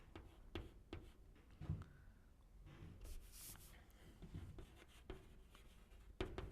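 Chalk or marker taps and scratches on a board during a Class 11 chemistry lesson, coming in short, irregular strokes at moderate loudness with no talk over them.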